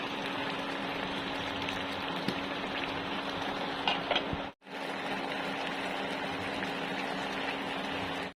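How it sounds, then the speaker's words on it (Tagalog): Steady bubbling and hissing of water with tomato boiling in a pot for fish paksiw, continuous throughout with a brief dropout midway. "Ayan guys, kumukulo na."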